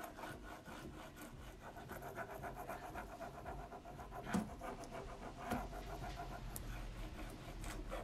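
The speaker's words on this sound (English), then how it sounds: "So I usually start rubbing my transfer on there." Steady scraping and rubbing as a decorative transfer is pressed onto a wooden jewelry cabinet, a continuous rhythmic friction sound, close and quiet, with a couple of faint knocks and no talk.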